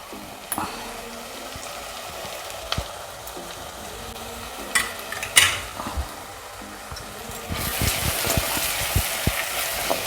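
Small chopped pieces of garlic sauté in a pan for Pallipalayam chicken, giving a continuous sizzle with scattered ladle scrapes and clinks, then a louder, denser hiss near the end.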